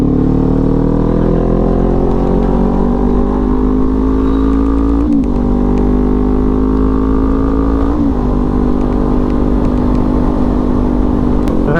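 A Kawasaki Z400 sport motorcycle being ridden, its engine revving steadily upward with two brief dips as it shifts gears, close and loud throughout. No talk.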